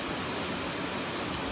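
Heavy rain pours outdoors in a dense, steady hiss, close and unbroken, with no voices over it.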